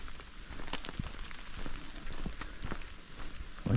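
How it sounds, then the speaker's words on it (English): Heavy rain falls in a town centre, a soft, steady hiss of drops on hard surfaces with scattered sharper patters, fairly quiet throughout. "it is raining quite hard now"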